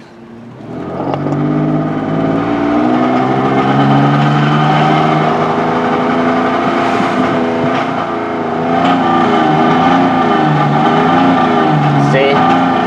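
A car engine revs hard with the gas pedal floored, its harmonic drone rising and wavering unevenly as a random misfire and lack of power hold it back, loud and steady throughout the clip.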